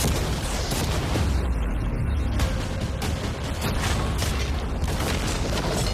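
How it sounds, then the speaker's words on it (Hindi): Cannons fire at a yacht in a dense, loud barrage of booming and crashing, with an almost continuous roar of impacts and mechanical creaks. "अब हम तुम्हारी नई यॉट पर कैनन्स को शूट करने वाले हैं।"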